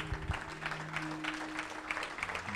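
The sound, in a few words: sparse applause from a church congregation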